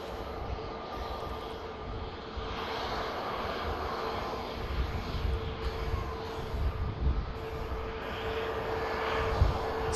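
An airliner touching down and rolling out on the runway at Manchester Airport, a steady broad engine roar with whining tones and a swelling rumble, heard from a distance throughout.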